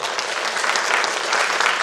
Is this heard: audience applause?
yes